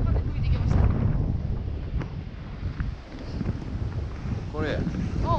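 Wind gusting on a mountain summit trail, Mount Nijō in February: steady low roaring buffeting across the microphone throughout, with faint voices in the background.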